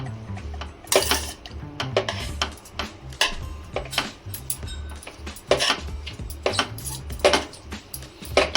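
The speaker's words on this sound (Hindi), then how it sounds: "इसको फिर से वन मोर टाइम फेंट लेते हैं अच्छे से" Utensils tossing a Thai vegan salad in a bowl, with irregular clinks and scrapes of cutlery against the dish, close and fairly quiet with no talk.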